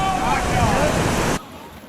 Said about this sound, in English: those were the biggest waves I've ever hit in my life